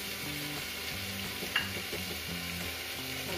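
Vegetables stir-fry in oil for Kathiyawadi masala khichdi, giving a steady, close sizzle with soft stirring scrapes, over faint background music.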